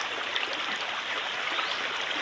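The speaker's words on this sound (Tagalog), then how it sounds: "Ang ganda ng agos ng tubig at saka ang linaw." Clear water flows steadily in a rocky stream, a continuous bright rushing wash without pauses, close and even in level, with no talking.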